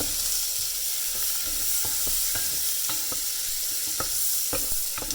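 Bacon frying in hot oil in a pan sizzles with a steady hiss, dotted with sharp pops and crackles, close and alone.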